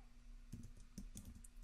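Quiet typing on a computer keyboard while working in Affinity Photo, a short burst of a few soft, close key clicks over a steady low hum.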